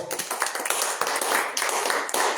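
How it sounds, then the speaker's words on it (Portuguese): A church congregation at a home prophetic service claps in praise, a dense, steady patter of many hands with uneven bursts, fairly close and continuous throughout. "se bater palma assim, você parece estar morrendo"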